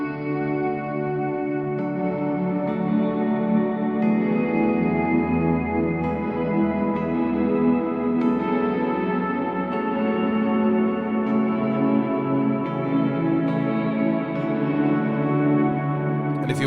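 Electric guitar playing a sustained ambient pad drenched in echo and reverb, with dense layered chords blurring into a continuous swelling wash at steady volume without pause.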